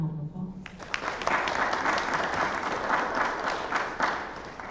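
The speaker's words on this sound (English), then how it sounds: "Let's give her a round of applause." Steady applause from an audience, many hands clapping densely and evenly for several seconds after a brief voice at the start.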